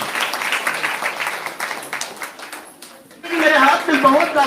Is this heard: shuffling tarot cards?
no